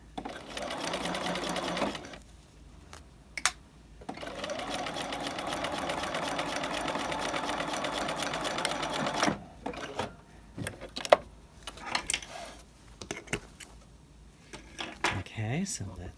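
A sewing machine runs a standard 2.5 stitch along a raglan collar in two sustained bursts of rapid, even whirring, followed by quieter clicks, handling noises and a person talking.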